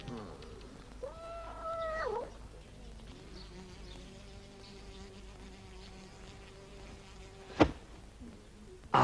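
Buzzing fly in a Czech-dubbed kung fu film: a thin, steady buzz hums in the background for several seconds, with a short warbling tone early on and a sharp hit near the end.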